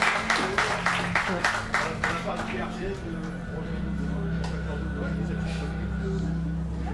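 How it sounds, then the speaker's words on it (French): Audience at a French union and political debate claps for a speaker and her comrades, a brisk burst of hands that fades within a few seconds into a low room hum. "Je crois qu'on peut l'applaudir et qu'on peut applaudir ses camarades."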